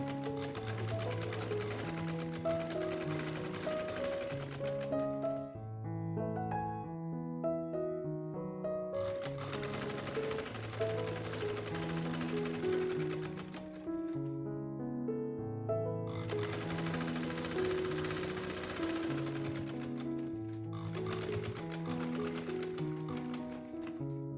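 A sewing machine stitches cutwork lace onto fabric, running in rapid rhythmic bursts of mechanical clatter separated by brief pauses, close and fairly quiet, with no talking.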